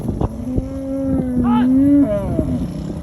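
Cattle on the Huiteng Prairie in Inner Mongolia moo and scuffle: a long, loud, close low moo with a rising cry over it, with thuds and rustling around it.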